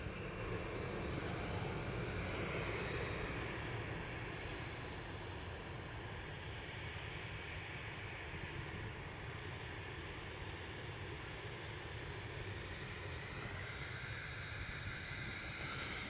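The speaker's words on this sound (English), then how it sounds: "EasyJet's now lining up." An EasyJet airliner at Manchester Airport gives off a steady, loud broadband jet roar that holds evenly throughout, with no talking over it.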